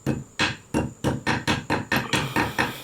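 A small ping pong hammer taps a U-joint into place on a 2012 Nissan Juke turbo, about nine sharp, evenly spaced metallic knocks, close and clear with no talk.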